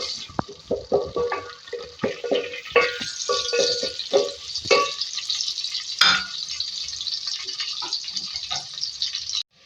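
Two medium-sized onions frying in a pan for a dhaba-style bottle gourd curry, giving a steady close sizzle with scattered clicks and stirring scrapes, with no talking.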